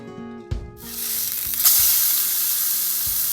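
A burger patty with a skillet pressed on top to flatten it sizzles steadily and loudly after a couple of clunks, the frying swelling into a constant hiss, with no voices.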